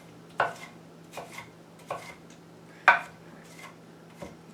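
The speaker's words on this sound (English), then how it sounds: "then you just kind of bring it all together and just start chopping away" A knife chops heirloom tomatoes for salsa on a cutting board, with six separate soft thuds at an uneven, unhurried pace, close and fairly quiet over a low steady hum.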